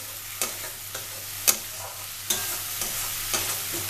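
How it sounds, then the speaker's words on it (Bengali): Spice paste stir-fried with small boiled potatoes in a pan, a quiet sizzle broken by repeated scraping strokes of a spatula at irregular intervals. "তো মশলাটা আমি একটু ভালো করে কষিয়ে নিয়ে তোমাদের কাছে ফেরত আসছি"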